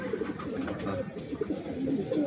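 A racing pigeon coos softly in a loft, low murmuring calls repeating over a steady background rustle and hum, fairly close but not loud.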